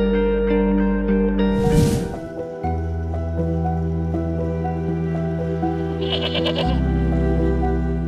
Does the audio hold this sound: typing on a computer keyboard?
no